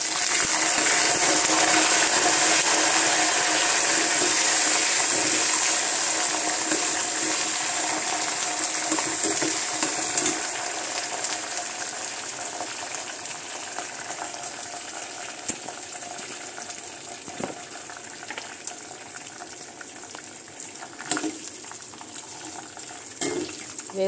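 Curry leaves dropped into hot oil for lemon rice give a steady, close frying sizzle that slowly fades and softens, with a few faint clinks near the end and no talking.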